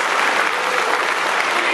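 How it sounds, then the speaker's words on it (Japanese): An audience at a US Army Camp Zama combatives demonstration gives a dense, loud round of applause for the instructors and demonstrators, and a voice carries faintly under the clapping. "Please join me in a round of applause for the USARJ combative instructors and demonstrators."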